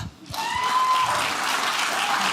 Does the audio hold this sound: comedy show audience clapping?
yes